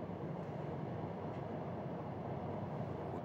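The Red Arrow passenger train rumbles steadily at moderate loudness, a continuous rolling rail noise without distinct clatter.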